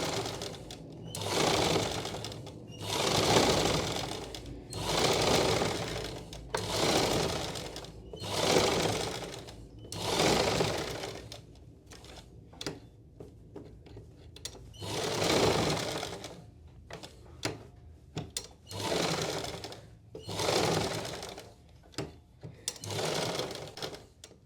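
A sewing machine stitching on a single layer of cloth, running in repeated bursts of rapid mechanical chatter separated by short pauses, close and fairly quiet with no talk over it.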